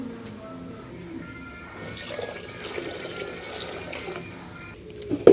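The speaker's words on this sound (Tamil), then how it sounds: "தேவையான தண்ணி ஊற்றிக்கலாம் காய் வேகிறதுக்கு" Water runs steadily from a tap into a pot of dalcha vegetables, a continuous splashing pour that swells slightly toward the end, with a brief louder clatter at the close.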